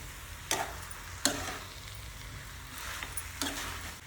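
Egg being stirred into a spicy chickpea-greens dry vegetable in a pan, giving a low steady sizzle with a few sharp scraping knocks of the spoon, nearby, with no talk.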